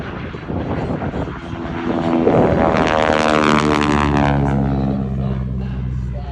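A North American Harvard propeller airplane makes a low pass down an airshow runway, its loud droning engine swelling as it approaches and passes close overhead, then easing slightly as it moves away.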